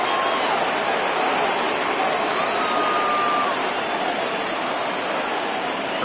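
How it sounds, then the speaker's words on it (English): A baseball stadium crowd cheers and roars without letup during a full-count pitch in a National League Division Series playoff game, Pirates at Braves, with a broadcaster's voice faintly under the noise. "Crowd gets up for the 3-2."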